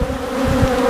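Honeybees at an opened hive, gathering nectar after a honey harvest, make a dense, continuous buzzing hum up close, with many wings droning together in a brief burst.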